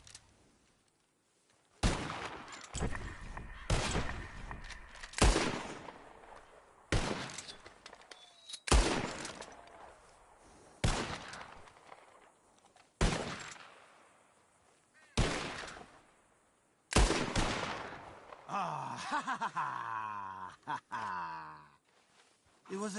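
Gunfire in Red Dead Redemption 2 aimed at flying birds: about nine loud, sharp reports spaced a second or two apart, each decaying quickly, ending in a brief burst of warbling tones.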